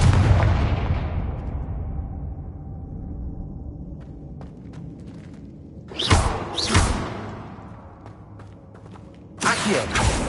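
Confringo blast spell from a Harry Potter video game: a heavy boom fading over a few seconds, then two sharp whooshing bursts midway and another burst near the end, loud and close.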